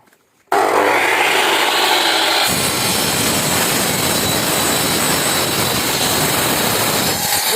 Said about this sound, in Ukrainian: Зажимаємо обов'язково і швиденько одрізаємо.